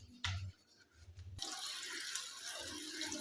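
Water splashes and pours steadily as about ten kilograms of kinnow oranges are washed, a few sharp plops at first, then a continuous, fairly loud rushing wash with no voices.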